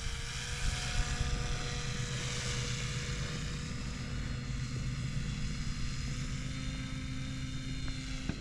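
A HobbyKing radio-controlled paramotor's small propeller drones steadily during a touch-and-go, a constant buzzing whine at even loudness with faint tonal wavering, heard alone without talk.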